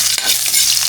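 Ginger sautéing in a pan gives a close, continuous sizzle with a couple of soft stirring scrapes during a short burst and no voices.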